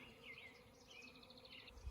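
A honeybee swarm buzzes around a tree branch outdoors, a steady faint drone with higher wavering whines of individual bees passing close, no voices.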